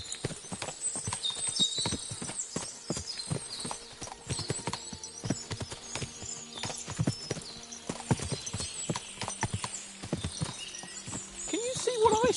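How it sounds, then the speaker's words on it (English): Many horse hooves clop on hard ground in a busy, overlapping rhythm in the video game Kingdom Come: Deliverance II, with a horse whinnying and voices talking throughout. "What a lot of horses!"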